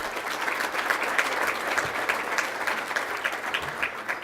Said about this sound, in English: a great round of applause for these seniors because they did a wonderful job